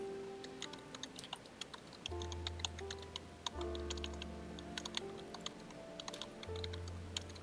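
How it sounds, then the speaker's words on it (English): Rapid typing on a computer keyboard clatters in a dense stream of close, crisp key clicks over a low hum and background game tones, without speech. "I hear a fury of typing."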